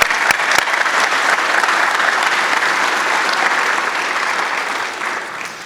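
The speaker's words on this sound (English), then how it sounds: "let's just join in a round of applause for all of our sponsors at this time" An audience applauds the sponsors during opening remarks at an event, loud dense clapping from a large crowd that holds steady and tapers slightly toward the end.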